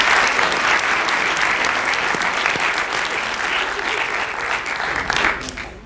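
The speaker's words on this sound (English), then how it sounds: "let's give a huge round of applause for all of the startups that pitched tonight" Steady, dense applause from an audience at a startup pitch competition, sustained clapping filling the room for about six seconds before tapering slightly at the end.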